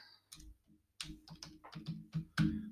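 Computer keyboard typing comes through in short bursts of clicky keystrokes with brief pauses, close and fairly quiet, with no voices.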